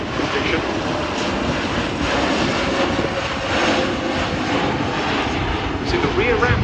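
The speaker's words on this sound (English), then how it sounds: "Now the aircraft being brought back in simulated drop position." A Luftwaffe Airbus A400M Atlas military transport flies past at an airshow with its rear ramp open, a steady, loud, broad roar of turboprop engines that holds unbroken throughout.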